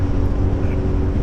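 Inside a cheap, worn Subaru Forester with a broken, patched exhaust, a constant loud low drone fills the cabin, steady and unbroken for the whole short stretch.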